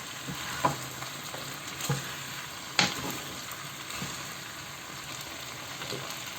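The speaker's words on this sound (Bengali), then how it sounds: "খুব ভালোভাবে নাড়া দিয়ে দেব" Beef chilli with soy sauce and a little sugar sizzles in a frying pan, close and steady, broken by a few sharp utensil scrapes and knocks as it is stirred, with no talking.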